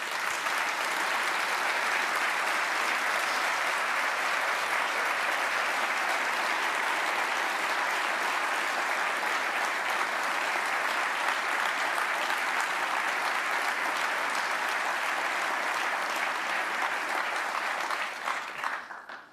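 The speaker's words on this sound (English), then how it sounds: "If you guys could please stand and give them a round of applause." Sustained applause from a standing audience at the Hall of Heroes Medal of Honor ceremony for Master Sgt. Matthew Williams, a dense, even wash of many hands clapping for nearly twenty seconds before tapering off at the end.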